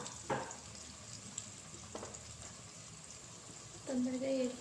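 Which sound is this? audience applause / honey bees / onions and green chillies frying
onions and green chillies frying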